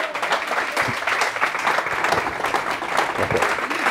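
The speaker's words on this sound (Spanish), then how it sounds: "aplaudirle, por favor" Steady applause from a lecture audience, dense clapping held at an even level for about four seconds with no voices standing out.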